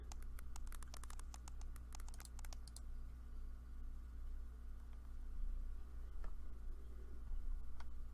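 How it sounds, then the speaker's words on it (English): Keyboard typing in the horror novel game Bad End, a quick burst of clicking keystrokes over a steady low hum, then stopping, leaving only faint ticks and the hum. "I started typing into the new thread box."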